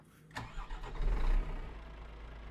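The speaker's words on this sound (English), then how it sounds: "Oh, sounds like a proper truck." A truck engine starts in a trucking video game set in a Greek summer: a brief cranking catch, then a low, steady mid-range rumble that swells and settles into an idle, fairly close and with no talk over it.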